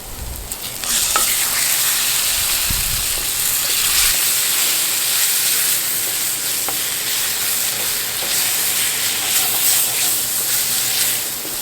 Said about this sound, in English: now I'm going to fry this pumpkin